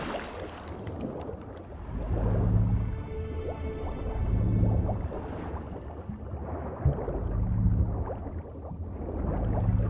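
Bath water in The Witcher 3 sloshes and drips in slow repeated swells, wet gurgles rising and falling over a low rumble, with no one speaking.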